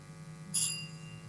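A quiz-show timer bell rings once, a single bright metallic ding that decays quickly over a faint steady background hum, with no talking.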